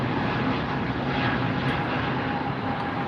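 A Frontier airliner at LAX airport, its engines giving a steady, fairly distant jet roar with a faint whine running through it, continuous and alone.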